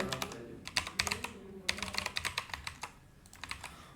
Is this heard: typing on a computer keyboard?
yes